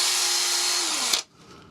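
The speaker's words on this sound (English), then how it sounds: "I need to be sanding this quite a bit because this is softwood and it's very, very easy to tear out" A softwood bowl spins on a wood lathe while being sanded: a loud, steady motor whine with abrasive hiss runs for about a second, then cuts off abruptly and leaves a faint spin-down.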